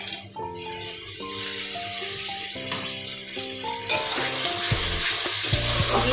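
Chicken kosha frying with ground tomato paste in a pan, heard as a sizzle that swells louder partway through, mixed under prominent melodic background music, with no talking.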